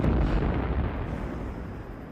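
Heavy cannon fire rumbles in a deep, continuous roar that slowly fades, loud and booming.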